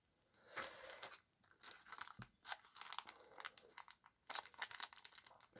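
Crinkly plastic wrapper of a Dragon Ball card booster pack rustling and crumpling with sharp scissor snips and tears, close up, in uneven bursts with no talking.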